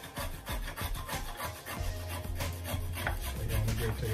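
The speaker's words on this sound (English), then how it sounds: "I'm just gonna take my nutmeg and just grate it in the meanwhile." A whole nutmeg scraped hard against a grater, up close, in steady rhythmic strokes that sound rough and woody, with a low hum coming in underneath partway through.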